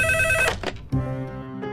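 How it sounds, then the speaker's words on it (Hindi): A phone rings with an electronic tone, cut short partway through, followed by a brief fainter chime. "मैं फोन उठाती हूँ।"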